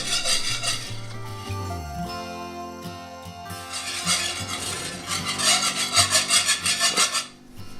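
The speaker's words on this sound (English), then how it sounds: "You might want to switch to your whisk." A whisk stirs sour cream into a mushroom stroganoff gravy in a pan, with close, rhythmic scraping and rubbing strokes that speed into quick bursts toward the end.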